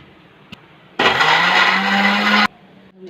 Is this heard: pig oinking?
no